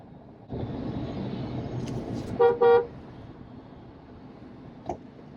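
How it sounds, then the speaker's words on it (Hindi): Heavy road traffic hums in Gurgaon, a steady engine drone as a car horn gives two short, loud toots close by, followed later by a faint, brief beep. "भाई बहुत ट्रैफिक है यार"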